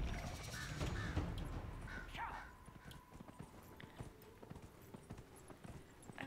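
Horse hooves clatter in a steady galloping rhythm in the video game Dragon Age: Inquisition, moderately loud over a low rumble, with bird caws and brief game sounds mixed in.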